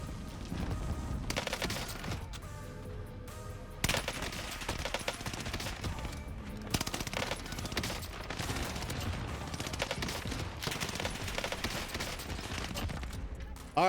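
Cooper carbine gunfire in the Call of Duty Warzone video game, with dense, continuous bursts of rapid shots and layered game effects running loudly throughout, plus occasional sharp louder cracks.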